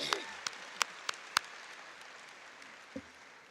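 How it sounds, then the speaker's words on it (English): Graduation audience applause, a soft, diffuse spread of clapping from a crowd with a few louder single claps standing out early on, then fading to a quieter patter. "Let's give them a big round of applause."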